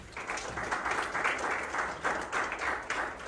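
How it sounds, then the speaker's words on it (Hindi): Audience applause at a World Hindi Day celebration held in an embassy of India, steady rhythmic clapping from a gathered crowd, moderately quiet and continuous with no talk. "एक बार उन सब के लिए जोरदार तालियां हो जाए"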